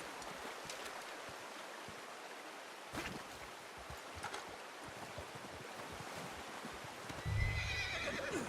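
A horse whinnies in the video game Red Dead Redemption 2 amid a steady rushing background like surf or wind, with hoof-like thumps and a louder burst near the end.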